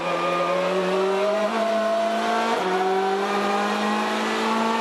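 WTCC touring race car at the 2013 Porto round, engine screaming at high revs from onboard, with two quick gear shifts breaking the steady drone as it powers out of slow corners.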